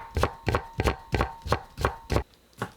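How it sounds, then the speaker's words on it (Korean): A knife cuts a quarter carrot into thin strips on a board with about eight crisp, evenly spaced chops, close and loud, then one lighter tap after a short pause. "당근 4분의 1개를 채 썰어 주세요."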